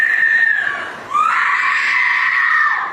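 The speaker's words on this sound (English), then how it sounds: "The cousin's screams are chilling." A cousin screaming by a swimming pool, one loud, sustained, piercing shriek that dips briefly and then carries on at full strength for about three seconds, close and raw.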